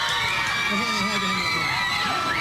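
Fans scream and cheer loudly at the entrance of a live television music show, a dense continuous wall of high-pitched crowd shrieks.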